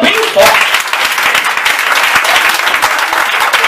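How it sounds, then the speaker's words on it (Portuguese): A church congregation at a women's congress claps loudly and steadily throughout, a dense wash of applause with voices mixed in. "Agora aplauda bem forte."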